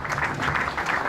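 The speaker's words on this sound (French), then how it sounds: "j'aimerais qu'on les applaudisse" Applause from an audience at a cultural gathering honouring women in public institutions, a brief dense patter of clapping with no voices over it.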